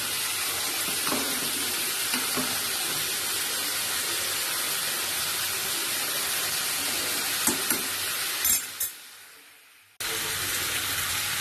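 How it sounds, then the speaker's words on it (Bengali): Cauliflower fries in a pan while being stirred, a continuous hiss of sizzling with occasional sharp scrapes and clinks. Near the end the sizzle drops away briefly before returning. "ফুলকপি কষানো হয়ে গেছে"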